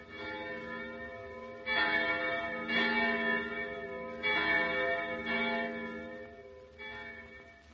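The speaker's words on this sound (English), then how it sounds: "The sounds of those church bells make me feel like praying." Church bells ring out in a slow, overlapping peal, each strike blooming and fading with a long ringing tail, heard from some distance.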